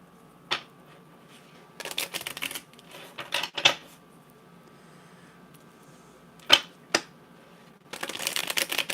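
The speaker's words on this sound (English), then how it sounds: "Let me give this a really good shuffle here." Several short bursts of cards being riffled and shuffled, separated by brief pauses and a few sharp snaps, close by and with no talking.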